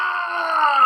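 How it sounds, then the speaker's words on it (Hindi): A man's drawn-out, strained cry of pain from a Hindi audio drama, a single sustained tonal wail that holds steady and swells slightly at the end, close and loud with nothing else around it. "विक्रम चौहान की चीखों से पूरी मुंबई दहल गई थी"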